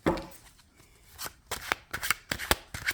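Tarot cards being shuffled by hand, with crisp, snappy riffles and flicks that come in quick bursts, close and clear, mostly in the second half, with no talking.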